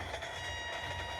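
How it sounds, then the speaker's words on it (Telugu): Train in a train video game rolling past, a steady mechanical rumble with sustained tonal hum and faint rhythmic clatter, brief and continuous, no talk. "ఇది కూడా వస్తుంది ట్రైన్."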